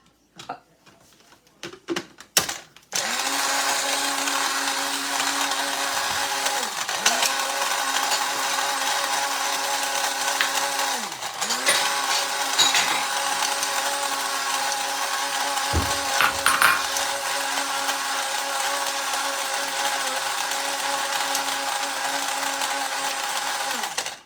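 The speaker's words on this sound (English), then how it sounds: "all I do is put these in this grinder" An electric grinder grinds dried chickpeas into flour, starting after a few handling knocks and then droning steadily and loudly with a coarse whirring buzz that dips briefly a few times.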